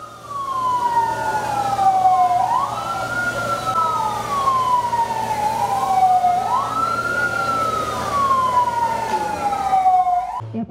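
Fire engine sirens wail loudly in slow rising and falling sweeps during a fire-fighting simulation by fire crews in Aceh Besar, with a low engine rumble beneath.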